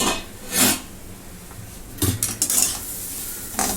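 Utensil scraping against a pan while gram flour pithla is stirred and sautéed uncovered, a few short clinks and scrapes with quiet gaps between them.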